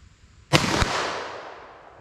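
A single sharp gunshot from a Super Vel 10mm pistol fired at a target 50 yards away, loud and close, with a quick second crack and a long echoing decay fading into outdoor quiet.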